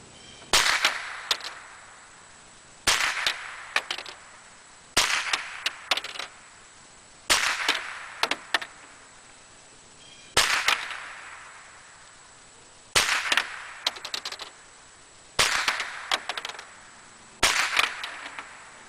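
Remington bulk 550 .22 Long Rifle rounds fired one at a time during an ammunition test: about eight sharp, loud cracks with a brief ringing tail, spaced roughly every two to three seconds, with no talking.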